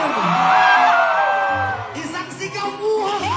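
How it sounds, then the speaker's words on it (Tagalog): A concert crowd at a band show in Toronto, Canada, whoops and yells, loud and close. A drawn-out cheer is followed by scattered shouts and voices as it dies away. "Isang hiyawan naman dyan!"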